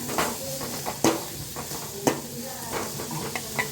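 Onions frying in a pan while a wife and mother cooks in a home kitchen, heard as a steady close sizzle with several sharp knocks and scrapes of a spoon stirring against the pan.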